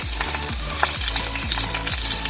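Ginger and green chili fry in hot oil with a loud, steady, close sizzle, and a rhythmic low musical beat pulses underneath throughout.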